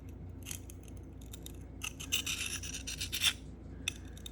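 Reverse-stroke deburring of a knife edge on a hand-held sharpening stone: a series of short gritty rasping strokes, quiet and close, with a denser run of scraping in the middle and a final isolated stroke.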